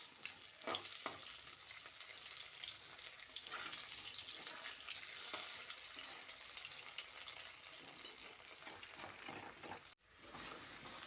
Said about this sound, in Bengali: মিডিয়াম টু হাই হিটে কুমড়োগুলোকে ভালো করে নেড়েচেড়ে লালচে করে ভেজে নিতে হবে